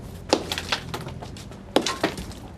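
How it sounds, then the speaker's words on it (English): Concrete being broken up with a sledgehammer outside a house: sharp cracking impacts, several blows in two clusters with brief gaps between, moderately close, with crumbling debris and no voices. "Because it's not your concrete you're breaking up."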